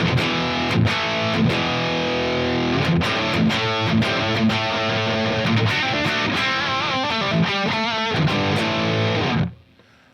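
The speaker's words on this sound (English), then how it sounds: "So let's check out the distortion first" A Jekyll and Hyde Ultimate Overdrive pedal pushes an electric guitar into thick distortion, with loud strummed chords and riffs played steadily for several seconds before cutting off abruptly.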